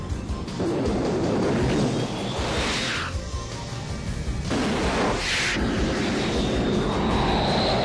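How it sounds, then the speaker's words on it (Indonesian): Fighter jets roar through an aerial chase in Top Gun: Maverick, with a continuous loud engine rumble broken by two sharp whooshing flybys. "pesawat jet yang ditumpangi Maverick harus menghindari dari pesawat tempur milik Jester"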